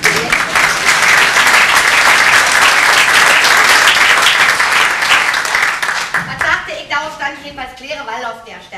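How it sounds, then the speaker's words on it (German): Theatre audience applause at a Berlin revue premiere, a dense sustained wash of clapping that thins and fades toward the end as voices and music emerge. "mal ein bisschen Applaus hier"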